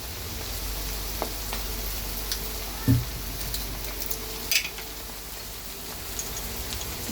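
Noodles frying with chili powder and soy sauce, giving a quiet, steady sizzle close by, with a few sharp utensil clicks scattered through it.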